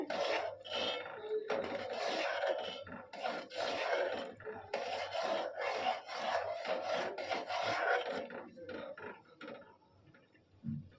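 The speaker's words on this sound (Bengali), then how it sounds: "চিনিটা দিয়ে আরও একটু ঘাটতে হবে" Sweet vermicelli with sugar being stirred in a cooking pot, giving loud, close scraping and rubbing strokes in an uneven rhythm that thins out near the end, with no talking.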